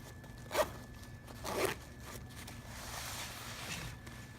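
A zipper on a small LBX windowed pouch with a vertical zip is pulled in two quick, close strokes, followed by faint handling rustle in a quiet room.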